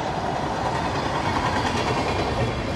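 A MARTA train passes near a campus exit, a loud, continuous rumble of rail wheels and cars with faint clickety-clack, steady throughout.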